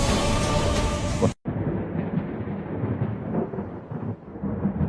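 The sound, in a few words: thunder from lightning striking skyscrapers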